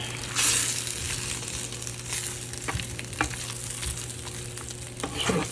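Crisp vegetables are stirred in a stoneware baking dish for a jalapeno popper chicken casserole, with soft scraping and light moist sizzling and clicking of a utensil, close and fairly quiet.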